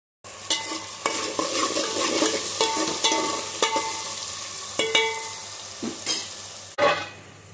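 Fish curry with chili powder is stirred in a pan, repeated scraping and clacking strokes of a spoon over a soft sizzle of frying, close and irregular, with no talking.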